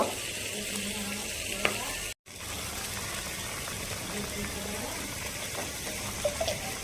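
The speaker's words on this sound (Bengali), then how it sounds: "জলটা ফুটে গেছে দিয়ে দিব ভেজে রাখা মাছ মাছটাকে দিয়ে দু মিনিট ফুটিয়ে নিব" Fried rohu fish simmering in boiling water for a sour tok curry with cashews: a soft, continuous bubbling hiss, fairly quiet and steady, with a brief dropout partway through.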